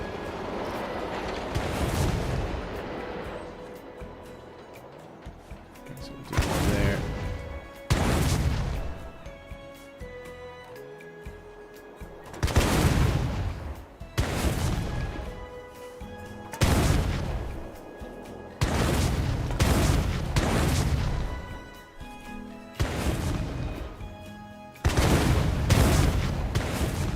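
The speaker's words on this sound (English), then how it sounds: "So we'll do some pyrotechnics." Pyrotechnic explosions placed in the theme park building game Planet Coaster, a series of loud booming bursts, roughly a dozen, arriving in irregular clusters with decaying rumbles between them, no talking over them.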